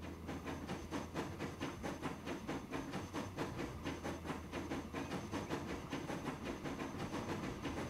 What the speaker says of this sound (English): The train is on its way to pick up its first load of stone.